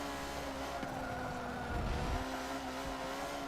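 Lancia race car cornering in Forza 7, its engine holding a steady high whine with a brief swell of tire and chassis rumble partway through, loud and close.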